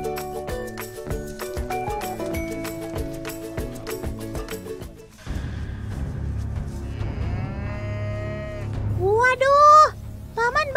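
Water buffalo in a rural Indonesian setting lowing and mooing while chewing grass, with layered tonal calls over a steady low rumble and a rising drawn-out call near the end.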